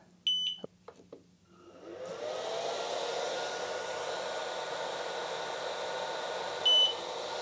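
An xTool F1 laser engraver runs after a few opening beeps, giving a steady moderate whirring hum for several seconds, then another short electronic beep near the end.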